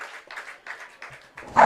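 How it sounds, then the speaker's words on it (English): A small group of supporters at an outdoor cricket grand final gives several short, light bursts of distant clapping, thin and scattered rather than a full crowd roar. "They be the Gold Coast supporters that were clapping that."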